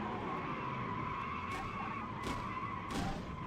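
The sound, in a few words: race car hitting the wall and skidding on two wheels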